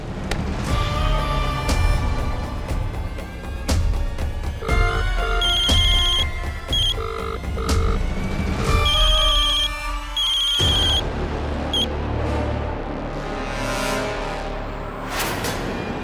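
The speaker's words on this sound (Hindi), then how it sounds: "काहे बार बार फोन आ रहे हैं?" A mobile phone ringtone sounds repeatedly in a steady, loud, melodic pattern with brief pauses, over background music and sound effects from a Hindi drama scene.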